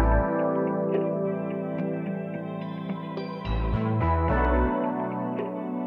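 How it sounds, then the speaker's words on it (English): Chopped-up percussion loops in a production, sounding as loud, continuous processed music with sustained low tones and abrupt stuttering cuts, heavy effects and echo, with no talking. "Then lastly, I just chopped up some percussion loops to just sound like this."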